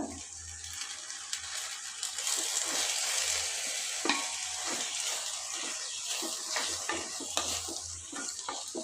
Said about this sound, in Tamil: கரம் மசாலா பொடி எல்லாத்தையும் சேர்த்து நல்லா வதக்கிடுங்க